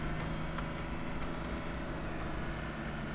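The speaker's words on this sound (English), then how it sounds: "It sounds almost like a big truck." A steady, low engine drone heard from inside the cab of a farm vehicle in Farming Simulator 2013, a constant rumble with a faint whine on top and no talk over it.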